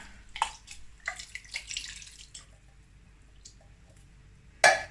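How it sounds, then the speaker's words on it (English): Water splashes and swirls inside an emptied tin of plum or chopped tomatoes while cooking a vegan cabbage curry, a few short rinsing bursts followed by quiet drips and one sharp final splash. "I'm just gonna wash it out a little bit with some extra water, maybe half a tin here"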